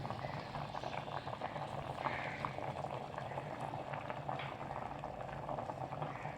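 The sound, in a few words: curry boiling in pot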